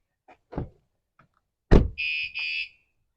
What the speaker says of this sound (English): Okay, now the alarm's on.